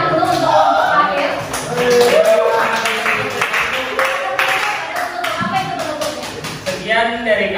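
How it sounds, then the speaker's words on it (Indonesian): A classroom audience claps for the final group, brisk overlapping hand claps running throughout, with chatter and shuffling mixed in at times. "Berikan tepuk tangan dulu untuk kelompok terakhir"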